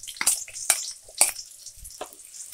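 Sliced onions dropped into hot oil in a kadai for a brinjal and peanut-spice fry, giving several short sizzling bursts that rise and fade at irregular intervals.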